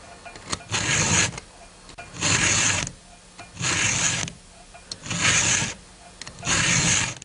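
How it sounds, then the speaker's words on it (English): Round file rasping across chainsaw chain teeth in five even, rhythmic strokes, each a gritty scrape of about a second separated by short pauses, close and fairly loud. "I'm going to give the teeth on this side of the chain 6 strokes each"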